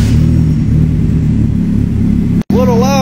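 A 2.4 engine with its exhaust unbolted idles loud and close, a steady rough rumble that runs unbroken for over two seconds before a brief cut, after which a faint whine is heard.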